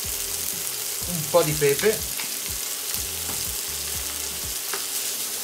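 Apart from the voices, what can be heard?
hop shoots and asparagus sautéing with onion in a pan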